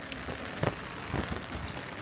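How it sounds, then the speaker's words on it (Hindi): Steady rain falls in the cloud-covered hills of Nepal, a soft, continuous patter with a few closer drops tapping nearby, with no voices. "इसलिए पूरे टाइम बारिश हो रही है।"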